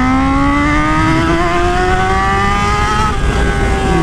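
A Honda Hornet motorcycle engine revs up loud and close, its pitch climbing steadily as it accelerates, then briefly dipping near the end.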